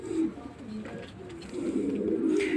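Pigeons coo softly and repeatedly near a newly hatched squab, the low murmuring calls close by, with faint background noise.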